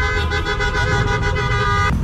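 Car horns at a crowded car meet of over 200 cars blare loudly and continuously, with pulsing repeated toots layered over a sustained honk and a sharp cutoff at the end.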